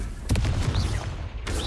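Confringo fire spell from Hogwarts Legacy goes off in a rapid burst of sharp, gunfire-like blasts, then a second crack follows over a steady rumble of game noise.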